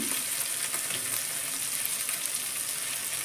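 Ginger and spices frying in hot oil in a pan over low gas, a steady, dense hiss and crackle that holds evenly throughout, close and loud, with no talking.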